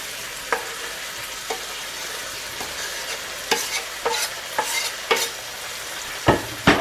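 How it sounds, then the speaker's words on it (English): Chopped onion and capsicum sizzle in a pan over a steady frying hiss, with repeated sharp scrapes and clacks of stirring at irregular intervals, close and without talk. "I'm going to saute off this onion and get that caramelised and these capsicums"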